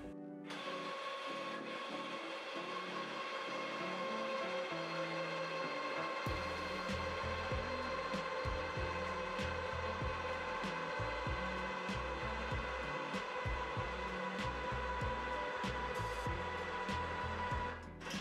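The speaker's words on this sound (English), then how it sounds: "LABA7 spring rate testers are equipped with a mechanical linear motor that compresses springs vertically at a controlled speed as slow as 5 mm per second" A LABA7 spring rate tester's mechanical linear motor compresses a spring vertically at a slow, controlled speed, producing a steady mechanical whir and hum that runs unbroken for the whole stretch, with no voices.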